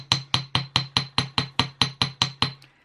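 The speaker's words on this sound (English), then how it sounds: "all we're going to do is hammer all of these ones that you've done" Eleven evenly spaced, crisp hammer taps on jewellery wire being work-hardened, each a sharp metallic strike with a short ring, close and fairly loud, then silence.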